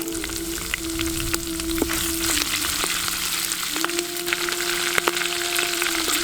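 Green chillies dropped into hot oil with cumin and bay leaf in a clay pot crackle and sizzle loudly and steadily up close, with sharp pops scattered through the frying.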